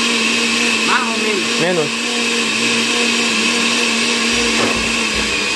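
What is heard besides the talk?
blender running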